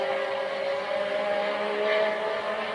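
High-pitched 1984 Formula 1 engines, McLaren and Porsche, scream steadily at full throttle on a straight at the Brazilian Grand Prix, a continuous whining roar at close range with a slight rise in pitch.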